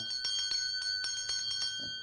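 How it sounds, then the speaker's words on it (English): An old schoolhouse teacher's hand bell rung rapidly, a clear metallic clanging with steady ringing overtones, close and fairly loud with no talk. "when you had recess or was called to class, why, she signaled with this bell"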